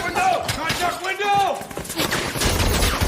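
Gunfire exchange in a combat scene from the 2014 war film American Sniper, with dense crackling shots and bursts layered over music and voices, loud and continuous throughout.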